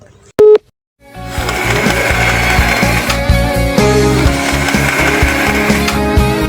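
A short busy-style hang-up tone sounds once in Sakura School Simulator, a video game, as a phone call ends. Loud, steady game music with a regular beat follows.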